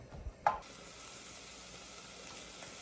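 Onions and garlic sautéing in a pan make a soft, even sizzle that runs steadily after a brief clatter near the start, with no talking.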